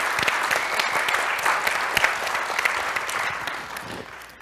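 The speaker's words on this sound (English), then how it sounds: "So just a round of applause for our guests." An audience at a food and media panel gives a sustained round of applause for the guests, many hands clapping densely and evenly, then slowly thinning toward the end.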